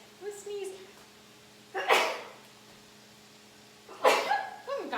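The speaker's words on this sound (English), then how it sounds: "I'm gonna sneeze." Two sharp sneezes burst out a couple of seconds apart, close and loud, with a little voiced sound before the first.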